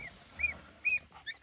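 A domestic goose gives three short, fairly quiet honks spaced about half a second apart near a nest in a farmyard setting, with little else around.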